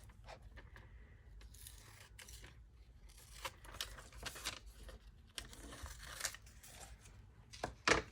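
Scissors cutting through magazine paper for collage borders, quiet close snips and crinkling paper rustles in irregular bursts, with no talking.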